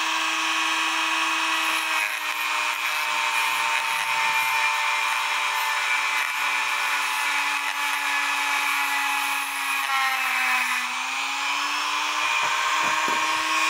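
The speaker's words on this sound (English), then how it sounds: "hold the wire brush, the Dremel, up to the gear" Dremel rotary tool with a wire brush cleaning a cuckoo clock gear: a loud, continuous high-pitched whir, close up, with slight pitch dips as the brush meets the metal and no talk.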